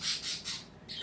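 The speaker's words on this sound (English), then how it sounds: "excuse my birds, they're very social." Pet birds indoors give a rapid series of four or five harsh, high squawks, moderately close and loud, with no talking over them.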